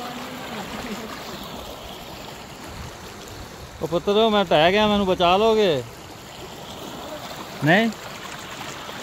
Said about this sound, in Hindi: आज पानी का फ्लो बहुत ही तेज़ है।